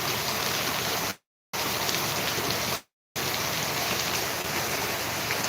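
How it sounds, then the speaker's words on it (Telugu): Heavy rain hisses steadily alongside the rushing flow of a swollen stream over a road in Dharmavaram, a dense, loud wash broken by two brief silent gaps. "వంక వంక పెరిగింది అదే పైకి వచ్చేసి అప్పుడే నీళ్ళు"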